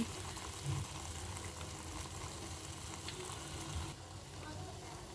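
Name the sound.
homemade hair oil boiling in a pan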